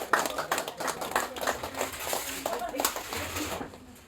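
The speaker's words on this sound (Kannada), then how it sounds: "ಜೋರಾಗಿ ಚಪ್ಪಾಳೆ ಹೊಡೀರಿ" Loud clapping from a gathered family crowd at a birthday blessing honouring an elderly person, a dense patter of many hands running steadily, with children's voices and chatter mixed in underneath.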